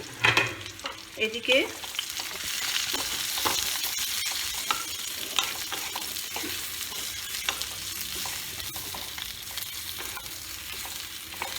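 Eggplant, onion and garlic sizzle and fry steadily in a pan, with a constant crackling hiss, occasional stirring scrapes and a brief spoken word near the start.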